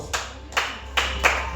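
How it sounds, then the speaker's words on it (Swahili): A church congregation claps for Jesus in four loud, evenly spaced claps that ring briefly in the hall. "Piga Bwana Yesu makofi."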